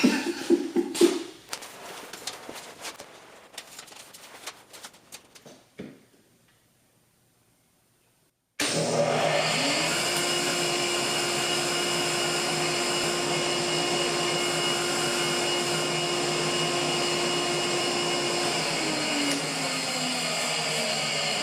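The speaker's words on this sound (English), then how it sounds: "And then turn on the vacuum so you can suck it up." A few clattering bumps and handling noises, a brief silence, then a vacuum cleaner switches on and drones loudly and steadily to the end.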